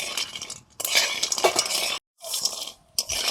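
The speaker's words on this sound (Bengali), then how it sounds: "এবারে বড়িগুলো ভেজে নিচ্ছি" Dried lentil dumplings (bori) being dry-fried in a pan, with a spoon scraping and stirring against the metal in busy bursts, broken by short pauses of silence.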